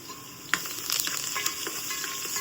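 Garlic and curry leaves hit hot oil with golden onions in a pan for an Agri-style dal dish, giving a sudden loud sizzle that settles into steady crackling frying with some stirring, no voices.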